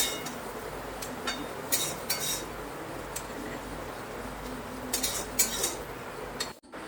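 Metal utensil scraping and clinking against a pan as a fried egg scramble is lifted out, a few scattered clanks over a steady low kitchen background.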